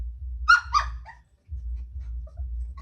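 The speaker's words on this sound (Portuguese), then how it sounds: "A minha cachorra tá latindo." A dog lets out two quick, high yelping barks near by, followed by a low rumbling background and quiet stretches.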